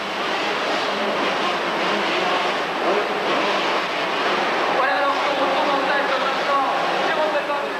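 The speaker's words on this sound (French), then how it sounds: "Et la Honda de Daniel Obelisco en 3e position." Kawasaki and Honda motocross bikes race at the 1989 Marseille supercross, a continuous engine drone and revving roar filling the arena while a commentator talks over it.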